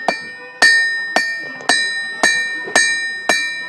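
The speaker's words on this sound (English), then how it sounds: "So I'm making a simple nail right now" A hammer strikes a hot iron nail in a steady rhythm, seven ringing blows about half a second apart, each leaving a bright metallic tone that fades.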